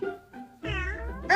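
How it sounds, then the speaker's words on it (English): A cat meows in a few short, close calls, the last one louder and rising, with no talking over it. "You're not allowed to meow at me when I'm eating my crackers."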